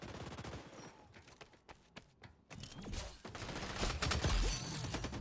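Gunfire in the XDefiant video game on PS5: scattered sharp shots early on, then a louder stretch of rapid automatic fire and bursts building toward the end, with no voices.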